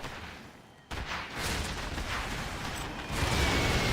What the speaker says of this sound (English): The actual explosion killed them in the air as well